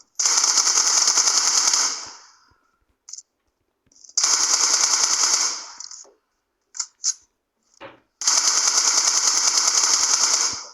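Automatic gunfire in a Turkish online shooter game with bombs and molotovs: three long sustained bursts, loud and close, broken by a few short single shots and brief quiet gaps.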